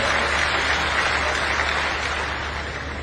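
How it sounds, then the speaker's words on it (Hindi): Thunderous, dense applause from a big crowd at an outdoor political rally in Nasrullaganj, Sehore, greeting Shivraj Singh Chouhan; a continuous roaring wash of clapping that eases slightly toward the end. "एक बार पुनः आप सब तालियों की गड़गड़ाहट के साथ उनका स्वागत करें"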